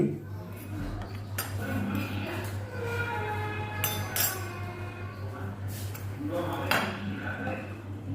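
Metal spoon clinking against a cooking pot as turmeric, chili and cumin powders go in, two spoonfuls each, a run of light close taps and scrapes over kitchen background noise.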